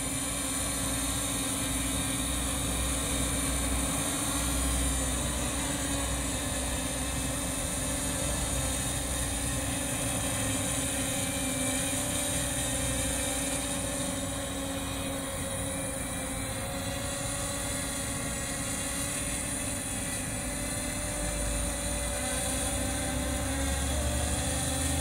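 A Walkera Scout X4 quadcopter drone on its first test flight gives off a steady, unbroken motor whine and rotor hum that holds at an even loudness for the whole stretch, with no talk.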